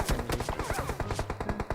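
Rapid automatic gunfire in the PUBG Mobile video game, a fast, evenly spaced burst of loud close shots running continuously for under two seconds, with no talking over it.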